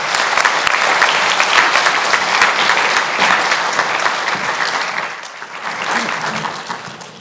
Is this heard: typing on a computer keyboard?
no